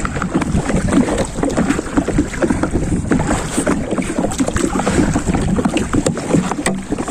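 A rowboat moves across water in Sri Lanka, with steady splashing and sloshing strokes close to the microphone under gusts of wind noise, and no voices.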